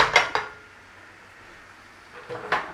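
A metal frying pan clanks and scrapes against a hard surface at the start, a quiet pause follows, then another clatter of cookware near the end.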